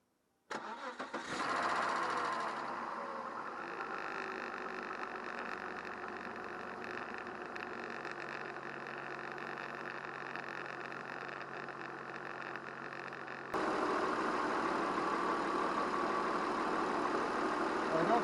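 An engine cranks and catches, then settles into a steady, rough idle that runs on and grows slightly louder near the end.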